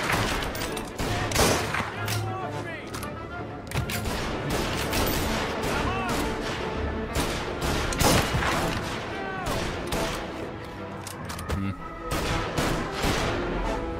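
Dense bursts of gunfire fill a shootout in the video game Mafia, with rapid overlapping shots, booms and crashes throughout and a voice talking over the barrage.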